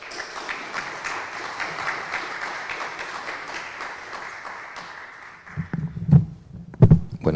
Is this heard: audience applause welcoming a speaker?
yes